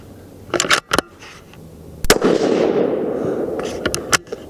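Tikka T3X Super Varmint .223 Remington rifle firing Hornady 69g Aeromatch bullets: a few sharp, loud cracks in quick succession, then one shot with a long rolling echo tail outdoors.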